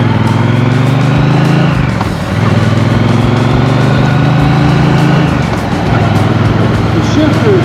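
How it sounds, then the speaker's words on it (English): A Triumph Bonneville T120 motorcycle being ridden, its loud engine droning steadily with rising and falling pitch through gear changes and a brief dip in level near the start, plus wind noise close to the rider. "I'm going to do a little ride on my Bonneville T120"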